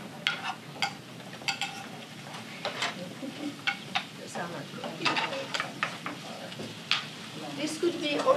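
Small slices are stir-fried in a pan, with a soft sizzle beneath repeated scraping and clinking of a utensil against the metal, a steady near-by rhythm of stirring strokes.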